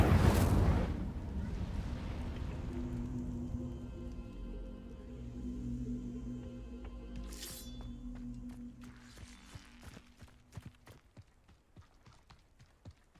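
An Incendio fire spell is cast in the video game Hogwarts Legacy, a booming burst at the start followed by a sustained roaring, crackling fire rumble with magical chimes and tones that fade out, with some game effects and faint talk.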